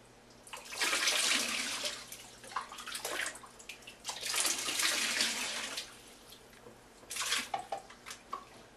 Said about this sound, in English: we're pouring the sanitizer in there.